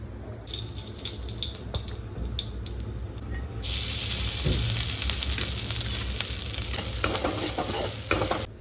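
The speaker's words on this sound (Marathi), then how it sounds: "याला मी असं जिरे मोहरीची थोडी फोडणी देऊन हळद टाकून" Cumin and mustard seeds with turmeric sizzle in hot ghee, a bright crackling fry that swells louder partway through and carries faint stirring clinks, close by with no talk.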